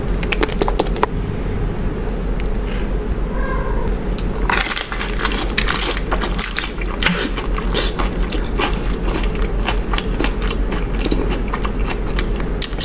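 Crunchy cheese taco shells and Chipotle food being eaten at close range, with continuous crisp crackling bites and chewing clicks over a steady low background hum, no talking.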